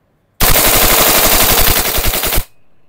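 A VFC MK16 airsoft gas blowback rifle fires one loud, continuous full-auto burst lasting about two seconds, with rapid sharp clacks close to the microphone that stop abruptly.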